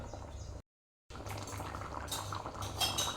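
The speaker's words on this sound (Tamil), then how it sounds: "இங்கே பாருங்கள், நல்லா குழம்பு கொதிச்சிருச்சு" Pinto bean curry simmering with coconut milk and ground cashews bubbles steadily in a pot, a soft continuous boiling texture with faint clinks, briefly cut to silence partway through.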